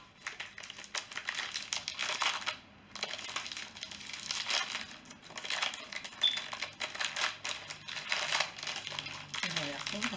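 A packaged milk product being torn open by hand, with crinkling and crushing plastic in repeated bursts close by, broken by a short pause, and a person talking intermittently.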